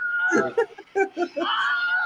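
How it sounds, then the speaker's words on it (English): A stock scream sound effect: a high, drawn-out scream rises and falls, broken by short choppy vocal bursts, then holds as a shrill sustained cry. "That's the same scream."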